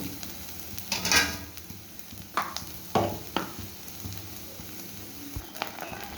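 Grated coconut fries in a pan until lightly browned, a soft close sizzle broken by several scraping stirs at uneven intervals.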